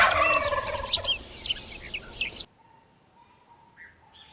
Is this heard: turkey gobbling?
yes